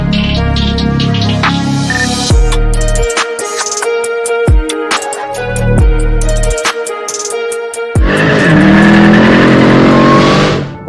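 Cars from a local Mopar Sunday Night group roll toward a parking-lot meetup, with loud engine rumble, abrupt revs and a final drawn-out roar with falling pitch close by.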